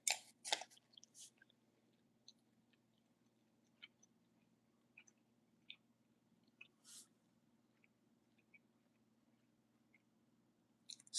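Someone eats a homemade dumpling or wonton, with soft, faint chewing and a few moist mouth clicks near the start, then sparse quiet smacks over low background hum, no talking.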